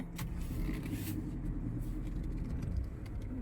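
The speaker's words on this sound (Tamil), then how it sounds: "நான் அப்படியே கிழக்கு நோக்கி திருப்புறங்க வண்டியை" A vehicle turns on a dirt road, its engine rumbling low and steady with faint creaks and rattles, close and moderately quiet, with no talk over it.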